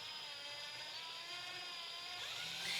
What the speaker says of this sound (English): Now I'm going to start off with this 2mm drill bit